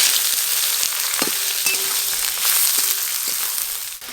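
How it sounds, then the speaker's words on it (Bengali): Chopped onions and green chillies hit hot oil over whole garam masala tempering, a loud, bright sizzle that flares and stays up, with a few scrapes and taps of a stirring spoon and no voices. "এবার পেঁয়াজ আর কাঁচা লঙ্কা কুচানো আছে তেলে দিয়ে দিতে হবে।"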